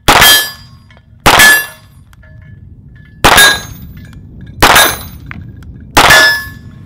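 Five sharp, loud pistol shots from a Walther PPQ ring out at irregular intervals, each followed by a metallic clang from steel targets on an outdoor range in sub-zero conditions.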